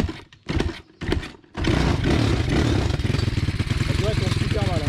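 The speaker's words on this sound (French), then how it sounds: "On va faire un petit démarrage si elle veut bien encore démarrer." An Apollo RXF 150 motorbike in poor condition, with a few short revving bursts as it is started, then settling into a steady, loud, close idle with a rough, shaking rumble.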